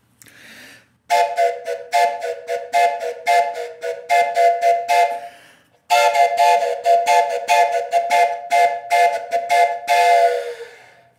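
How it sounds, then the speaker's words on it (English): Two long runs of rhythmic, pulsing chord blasts come from a wooden four-note train whistle, played loud and close. Each run fluctuates like a locomotive call and then fades away, with a short break between runs and no talk. "You kind of let it fade out like you would a train whistle."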